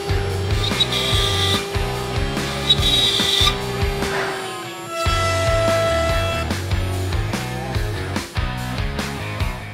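A CNC router fitted with a roundover bit carves wood for a workbench, producing a sustained high spindle whine over repeated rhythmic grinding and cutting passes, loud and close, with a brief pause midway.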